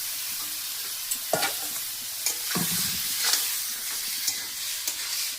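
Chicken sizzles steadily in a wok (kadai), with a few sharp scraping stirs cutting through the close, continuous frying hiss and no voices.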